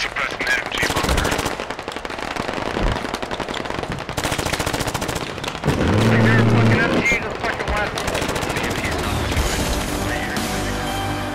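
Sustained machine gun fire suppressing an enemy MG bunker in the tactical shooter Squad, loud rapid bursts running almost continuously with brief pauses, mixed with other distant gunfire and explosions.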